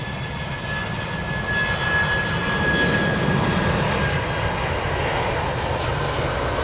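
Jet engines roar steadily at London Heathrow Airport, a broad, sustained rumble with a rising whine, heard from a moderate distance with no talking.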